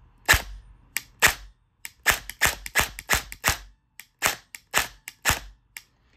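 An FN SCAR airsoft rifle with a custom motor fires sharp, snappy shots, singly and in quick bursts, with brief pauses between volleys in a quiet space.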